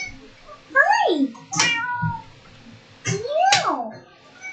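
A cat in Minecraft meows twice, clear and close, with a voice nearby.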